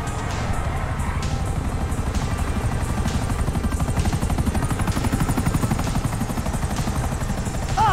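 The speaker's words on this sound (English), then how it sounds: "Great! Another chopper!" A helicopter in the video game GTA V thunders close and loud with steady rotor chop and a turbine whine, continuous and alone.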